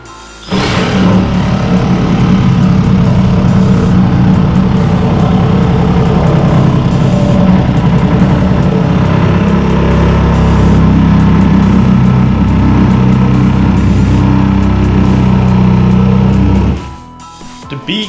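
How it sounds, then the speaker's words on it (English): A reciprocating saw notching the corner of a Civic truck's bed, a loud, harsh buzzing cut that runs continuously for about sixteen seconds at close range before abruptly stopping. "Now we just got to notch off the corner on both sides. So we're just going to do it with the recip in here."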